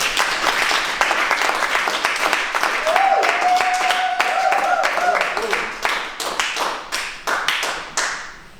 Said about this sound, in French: On peut acclamer pour le président.